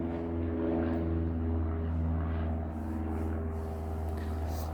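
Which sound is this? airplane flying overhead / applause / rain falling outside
airplane flying overhead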